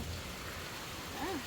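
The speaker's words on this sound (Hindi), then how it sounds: "बढ़िया बारिश हो रही है।" Steady rain falls outdoors, a dense, even hiss lasting throughout, with a faint brief chirp-like sound near the end.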